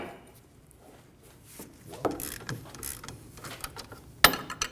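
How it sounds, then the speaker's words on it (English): A 22mm socket on a wrench breaks a nut free on a bolt while the bolt head is held, during front steering knuckle replacement on a 2008-2015 Scion xB; quiet clicks and scrapes build to a sharp metallic snap near the end. "We're going to use a 22mm socket, and we're going to break the nut free."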